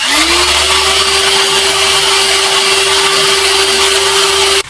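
A car polisher's dry foam pad, cleaned against a synthetic nylon scrub pad, spins up into a loud, steady high-pitched whir with a rasping scrubbing hiss for several seconds before cutting off abruptly.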